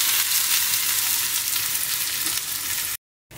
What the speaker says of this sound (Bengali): দেখুন আমি পেঁয়াজটা দিয়ে দিয়েছি।